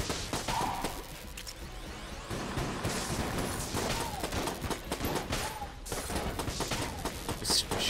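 Gunfire from the bullet-hell game Enter the Gungeon crackles in dense, continuous bursts, with sharp shots and whooshing projectiles layered over steady game noise throughout.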